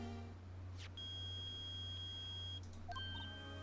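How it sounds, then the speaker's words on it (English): A metal detector in the Ace Attorney video game gives sustained electronic beeping tones, a long steady note followed by a few short chirps, faint and alone. "It's beeping! The metal detector's found something!"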